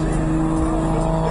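Stock Nissan 350Z with VQ engine driving slowly at Road Atlanta to scrub in brand-new front tires, a loud steady engine drone with a strong low tonal hum, close and continuous.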